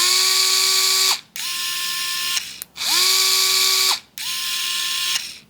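Hibro 3.6V electric screwdriver, a fourth-generation model, whirring in three close, loud bursts of steady gear whine, each about a second long and split by brief stops as the motor restarts.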